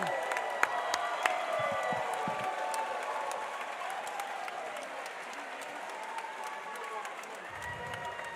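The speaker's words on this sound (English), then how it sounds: "Let's get a huge round of applause for these two, ladies and gentlemen. Give it up." A crowd at a cage fighting event claps in sustained applause, a dense patter of hands with a few sharp louder claps near the start, steady throughout.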